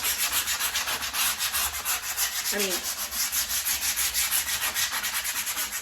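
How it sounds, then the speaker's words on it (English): Steady back-and-forth scratchy rubbing of fine sandpaper by hand over raised putty stencil areas on a dresser, continuous and fairly close, with a brief spoken remark partway through. "taking a fine piece of sandpaper and just going over any like raised areas"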